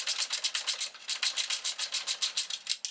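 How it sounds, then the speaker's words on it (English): A 3/8 ratchet undoing 14mm bolts on the intake of a Mazda MX5 Mk2, a steady run of fast, close, crisp clicking strokes repeating evenly throughout. "These two bolts, it's a simple 14mm, and we've got it on a 3/8 ratchet."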